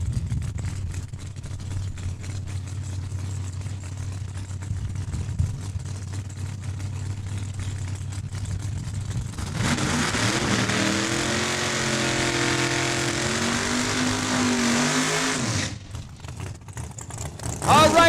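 An IROC Camaro, driven by Kim and Lorianne Bernard, makes a Super Pro drag racing pass at Saskatchewan International Raceway, a steady engine drone giving way to a loud, rising roar of acceleration that cuts off abruptly near the end, with an announcer talking over it.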